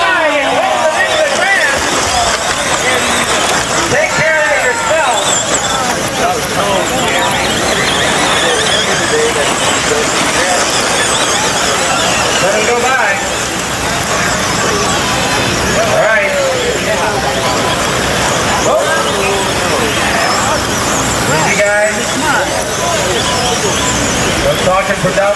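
Monster truck engines roar loudly and continuously at a 1993 championship event, mixed with crowd babble and an announcer talking over the noise throughout.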